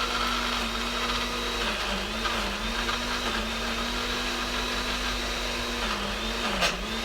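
A blender whirring steadily while celery pieces are pushed down onto the blades with a wooden spoon, a loud continuous motor drone that dips slightly in pitch as the load shifts, with a brief knock near the end.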